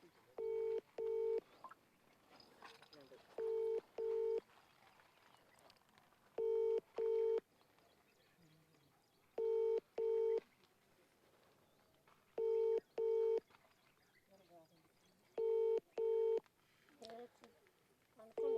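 A mobile phone call being placed: repeated paired ringback tones sound in even bursts every few seconds, clean and near, with quiet background noise and brief voices between the rings.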